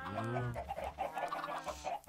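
A chicken in the Minecraft video game clucks a few short, quiet times in a row, alone and without any speech.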